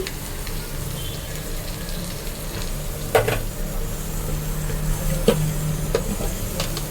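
Mint and coriander frying in oil for a mutton curry, a loud continuous sizzle with a few sharp scrapes of a stirring spoon against the pan, no voices.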